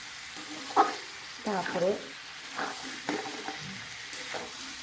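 Meat curry is stirred in a pan, with a few scraping strokes and soft sizzling under a gentle spoken voice, fairly quiet and close.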